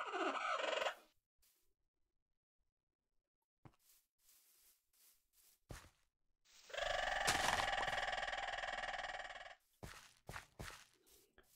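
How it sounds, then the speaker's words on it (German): Loud squawking of a bird mob in the Minecraft video game, a harsh gobbling burst lasting a few seconds amid scattered clicks and quiet gaps, heard alone without talk. "Boah, der Vogel macht ja gerade ganz schön Krach hier."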